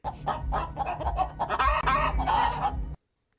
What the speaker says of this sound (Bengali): পরের দিন শেয়াল মুরগি চুরি করতে আসলে মুরগিগুলো অনেক ডাকাডাকি করতে শুরু করে